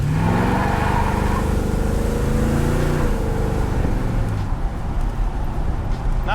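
A 1980 Chevrolet Corvette accelerates hard from a dead stop, its engine note climbing steadily in pitch as it revs up loud and close, with a shift around the midpoint and rising road and wind noise toward the end.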